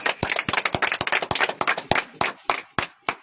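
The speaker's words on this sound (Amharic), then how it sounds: "እሺ፣ አጨብጭቡ ጉባኤዎች።" A wedding congregation claps together in a quick burst of sharp, close hand claps that settles into slower, spaced claps toward the end.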